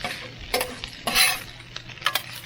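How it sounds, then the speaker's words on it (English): Chicken fried rice being stirred and fried in a pan while RV cooking, with scraping stir strokes and short bursts of sizzle recurring every half second or so, close and moderately loud. "And we want to fry the rice."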